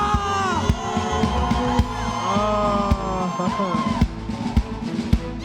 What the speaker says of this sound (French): Poussons des cris de joie.